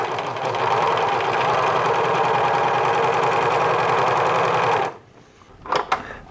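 A sewing machine runs steadily and loudly while hemming the curved bottom of a shirt, a dense continuous whir for about five seconds before stopping abruptly, followed by a few faint handling sounds.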